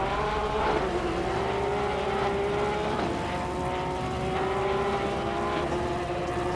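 A purple Porsche race car, number 99, drives on a racetrack, its engine a steady loud drone with rising and falling pitch from start to finish, heard alone.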